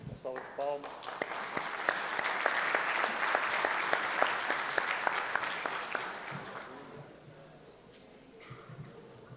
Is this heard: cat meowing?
no